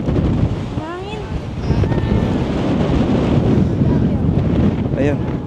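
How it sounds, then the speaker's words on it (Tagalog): Strong wind roars and buffets the microphone on a small mountain near Las Vegas, a loud continuous rush with brief voices and a faint whistle-like tone heard through it. "Hangin."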